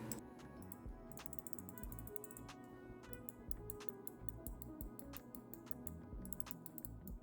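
Loud GM 8.0 KO mouse switches in a Starlight-12 Phantom gaming mouse click in rapid, irregular bursts, sharp close-up ticks repeating steadily over a low room hum with no talking.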